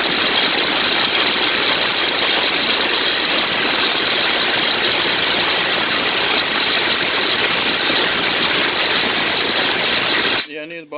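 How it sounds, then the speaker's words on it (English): Boss Freak half-inch drive impact wrench running flat out in a loud continuous whine and rattle for about ten seconds, close by, cutting off abruptly at the end. "I'll show you the Boss Freak. Half drive anvil, but this Boss Freak won't even touch this thing."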